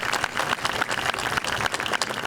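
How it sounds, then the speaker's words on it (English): Audience applause rings out at an outdoor 9/11 sunrise memorial ceremony on a beach at a town park, a steady wash of clapping at moderate distance with no voices over it. "Let's give them a round of applause."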